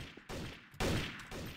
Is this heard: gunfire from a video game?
yes